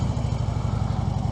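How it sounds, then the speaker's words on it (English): A Harley-Davidson Road King motorcycle engine turns over at low revs during slow-speed riding, giving a steady, throbbing low-pitched lope close by, without speech. "I don't care when I'm doing these manoeuvres if the revs are ridiculously loud"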